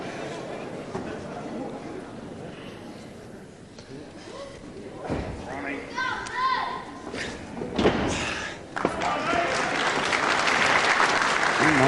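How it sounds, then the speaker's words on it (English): A packed crowd at the Lewisham Concert Hall in Chelmsford applauds at a wrestling event. The steady, full clapping runs throughout and swells near the end, with voices mixed in. "And nice applause from a packed crowd here at the Lewisham Concert Hall here in Chelmsford."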